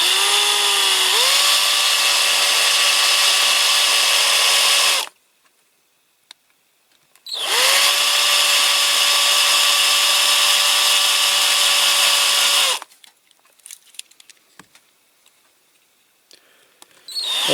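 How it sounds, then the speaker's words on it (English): A high-pitched power drill whines loudly in two long bursts of about five seconds each, drilling out rivets on a Corgi Toys 246 Chrysler Imperial die-cast model, separated by quiet pauses with small clicks. "looks like I will have to drill these middle ones out after all"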